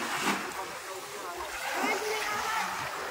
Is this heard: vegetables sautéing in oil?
no